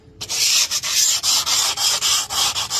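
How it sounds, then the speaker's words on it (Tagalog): Loud, close scratchy sanding, abrasive paper scrubbed across metal in rapid back-and-forth strokes with short regular pauses. "Pupuspusin po natin ang liha."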